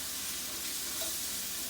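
Italian sausage frying in a pan, a steady, loud, close sizzle with constant hiss and no pauses.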